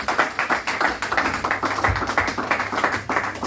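A church congregation at a prophetic worship service claps in a steady, fast rhythm with a dense wash of hand claps and faint voices mixed in.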